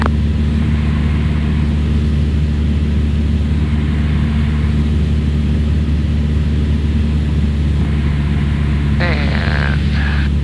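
A Cessna Skyhawk's piston engine drones steadily in the cabin on right downwind for a touch and go at Huntsville Executive, a loud, even propeller hum running throughout with a brief radio-like voice near the end.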